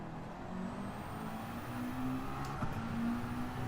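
Race car engine in Gran Turismo 7 during a racing session, a steady buzzing engine note with shifting pitch as the car accelerates, continuous and fairly close for the whole short stretch.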